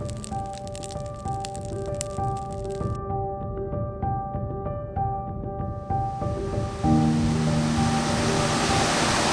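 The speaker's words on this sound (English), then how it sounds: "we've hit a couple small runs of rapids this morning, but we pulled up to this one and you could just hear this one thundering" Rapids on the Aston River in Labrador thunder with a steady broadband roar of rushing whitewater, growing louder and brighter toward the end, with no talking.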